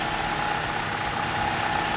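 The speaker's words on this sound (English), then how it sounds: "Engine noise here." A car engine idles steadily and evenly after a flex pipe repair, a constant close hum with no exhaust leak noise and no talk.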